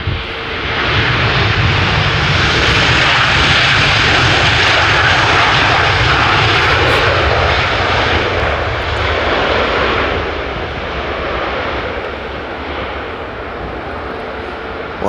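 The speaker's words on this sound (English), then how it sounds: "Wow, those are loud engines." Loud Airbus A320 family airliner jet engines roar steadily on landing approach at Edinburgh airport, a broad rumbling drone that peaks early and slowly fades as the aircraft passes.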